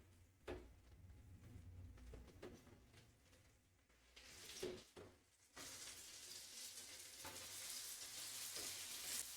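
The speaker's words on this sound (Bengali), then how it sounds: "এখানে আমি পটলগুলো এখানে একটু হালকা সতে করে নেব।" Pointed gourd (potol) sautéing lightly in butter in a pan, a soft, quiet sizzle with a few scraping stirs, the frying hiss growing fuller toward the end.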